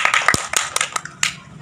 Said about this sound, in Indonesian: tepuk tangan untuk semua kelompok.